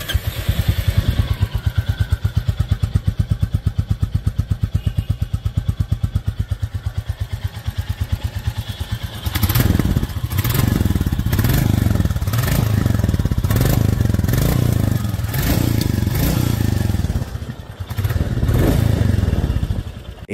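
A new 2025 Royal Enfield Classic 350 in Dark Stealth Black idles with a loud, even thumping single-cylinder beat, then revs in several sharp bursts that rise and drop back to idle, recorded close to the exhaust.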